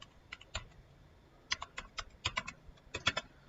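Computer keyboard keys typed in short bursts of clicks with brief pauses between them, close and fairly quiet, with no one speaking.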